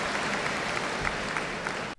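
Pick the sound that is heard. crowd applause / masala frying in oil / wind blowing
crowd applause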